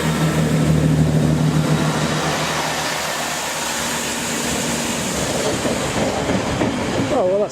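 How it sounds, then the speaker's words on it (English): A train passes at Kenton railway station, a loud, steady rumble of rail wagons with a low engine hum and some clatter, continuous throughout and close by. "The train's just come back from Brentford or somewhere"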